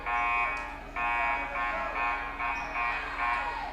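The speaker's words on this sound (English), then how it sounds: "Shouldn't have a buzzer problem there." A scoreboard buzzer at a high school basketball game in a gym blares in a series of loud, harsh bursts, one long blast followed by several shorter repeated pulses, dominating the faint crowd noise.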